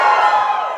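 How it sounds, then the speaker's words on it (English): A live comedy-show audience cheers and whoops loudly for manual drivers, a dense continuous roar of many voices with no talk over it. "Give us a cheer if you drive manual"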